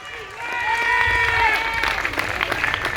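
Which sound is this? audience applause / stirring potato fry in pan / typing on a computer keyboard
audience applause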